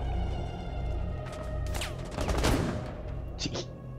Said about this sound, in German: Ich mach Dauerfeuer